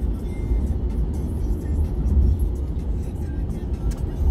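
A Nissan Ariya electric car cruising on its own on cruise control at the Montlhéry circuit, with a steady low road and tire rumble filling the cabin and a soft constant whir, no clear speech.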